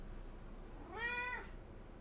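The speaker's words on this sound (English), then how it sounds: "Toulouse is my orange cat." An orange cat lets out a single clear, drawn-out meow lasting about half a second, fairly soft and close, with a quiet room around it and no talking.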